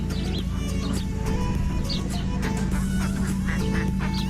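Ducks call repeatedly at a garden pond in Hamilton Gardens, New Zealand, with overlapping honks and quacks rising over a steady, dense background hum, loud and continuous throughout.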